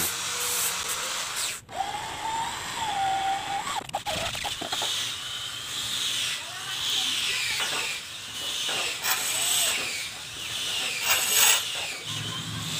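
A drill bores pin holes through a knife handle, giving a high whirring whine in several bursts separated by brief pauses, close by and fairly loud, with small clicks and handling noises between the passes.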